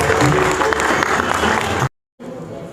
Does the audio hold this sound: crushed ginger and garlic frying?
no